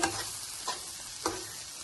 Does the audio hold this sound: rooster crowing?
no